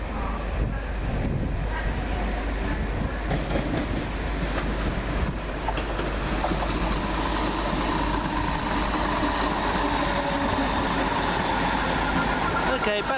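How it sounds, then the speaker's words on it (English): A train rumbles past at Alexandra Palace, a loud, steady roar with rail clatter that builds and holds for the whole stretch, while people talk nearby. "I was looking at this Welling train."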